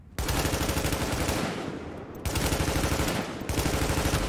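An automated turret in The Division fires in long rapid bursts, loud and close, three sustained streams of rattling shots separated by short gaps.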